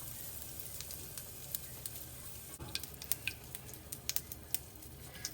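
Asafoetida dropped into hot oil with mustard seeds, cumin and urad dal for a sweet dal tadka tempering gives a quiet, steady sizzle with scattered sharp crackles and pops, close and faint, with no talking.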